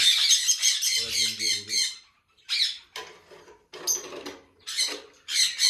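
Lovebirds, a yellow-collar pair and a green pair, squawk in an aviary with harsh, scratchy chattering calls in short bursts separated by brief pauses, close and fairly loud, with a voice speaking briefly near the start.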